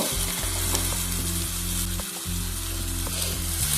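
Soy sauce and tomato sauce sizzle in a pan with cabbage for cabbage manchurian. A dense, continuous crackling fry sits over a steady low mechanical hum, with no talk.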